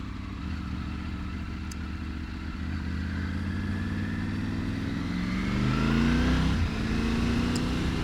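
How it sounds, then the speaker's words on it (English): A Triumph Tiger 900 Rally Pro motorcycle engine idles steadily up close, then revs up with a rising tone and settles back, alone with no talking. "turning on the engine."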